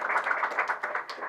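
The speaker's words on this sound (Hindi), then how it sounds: "नाइशा के लिए जोरदार तालियां" An audience applauds first-place winner Naisha Khan at a scholarship award ceremony for top girl BTech students, giving a short, steady burst of clapping at moderate volume.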